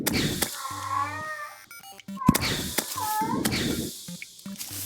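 A cat meows twice in a Terraria-style game session, each a wavering, rising-and-falling cry heard over game sound effects, with some brief clicks and tones between them.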